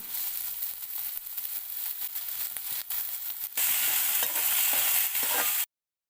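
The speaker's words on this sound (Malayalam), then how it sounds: "അതിലേക്ക് അരിഞ്ഞു വെച്ച് ഇഞ്ചി വറുത്ത് കോരുക" Chopped ginger frying in oil in a pan, a continuous bright sizzle with stirring scrapes, growing louder and hissier midway before stopping abruptly.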